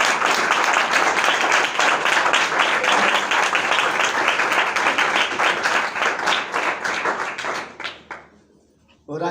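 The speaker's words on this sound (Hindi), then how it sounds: "आइए जोरदार तालियां खुदा के जलाल के लिए" A church congregation applauding loudly, a dense sustained wave of clapping that fills the room for about eight seconds before quickly dying away.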